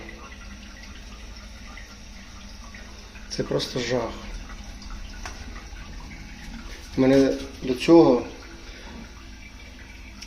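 An AM.PM Hit toilet flushes in two bursts of rushing, splashing water, a brief one early and a louder, longer one later, with a person talking over the quieter stretches.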